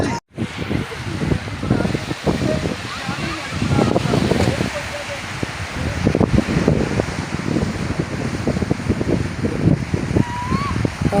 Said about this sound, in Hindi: पानी की लहरें, इनका शोर, क्या बात है।